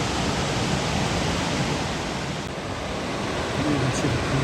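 Steady broadband roar of McArthur-Burney Falls, a large waterfall, filling the whole stretch as a continuous loud rush with no break.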